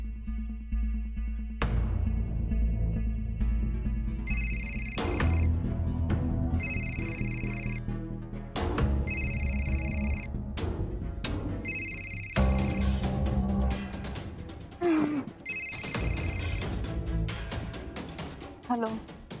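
Repeated electronic ring-back tone of an outgoing phone call, bursts of steady ringing in regular cycles over background music, with people talking in between.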